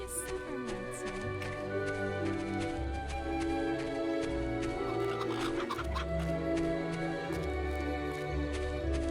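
Goose clucking inside the Fable Anniversary video game, repeated fowl-like clucks over steady game music and ambience, fairly loud and continuous.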